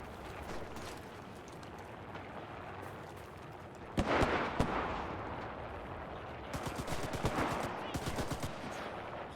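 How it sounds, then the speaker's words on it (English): Gunfire fills a battle in the game Enlisted, with continuous distant rattling shots, a heavier burst of bangs midway and rapid machine-gun volleys near the end, fairly faint overall. "They're shooting us from that way"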